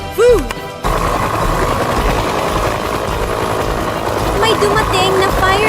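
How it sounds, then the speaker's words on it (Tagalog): Steady roaring whir of a fire rescue helicopter arriving over a fire fills the scene after a brief voice, with a crash-like burst and faint voices riding on top. "May dumating na fire rescue helicopter."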